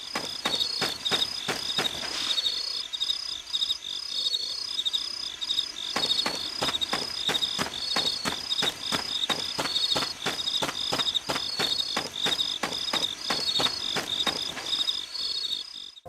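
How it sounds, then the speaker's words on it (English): Cicadas in the Wii game Fragile Dreams give a loud, rapid, rhythmic pulsing chirp that repeats steadily throughout. No voices are present, and any footsteps are hard to pick out beneath it. "only the sounds of your footsteps and the sounds of cicadas or dripping water"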